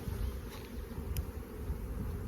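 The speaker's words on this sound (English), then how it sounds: "Now we gotta brush the bees off out of the cell frame here" Honeybees buzz in a dense, steady drone while being brushed off a hive frame during a colony split, close and continuous, with a couple of brief brushing scuffs and no talking.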